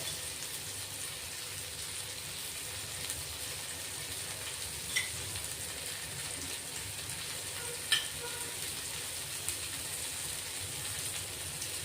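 Food shallow-frying in a little oil in a pan, a soft steady sizzle that runs on evenly and faintly, with a couple of brief louder crackles.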